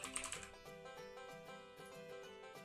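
Quick keystrokes on a computer keyboard while typing text in Photoshop, a short soft run of clicks mixed under a steady background of music, close and faint.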